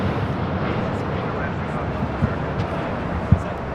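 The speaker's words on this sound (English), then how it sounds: "This is LATAM Airlines 8087 taking off to Sao Paulo" A LATAM Airlines 787-9 Dreamliner takes off from LAX, its jet engines a loud, broad, steady roar, with light wind buffeting and a couple of thumps.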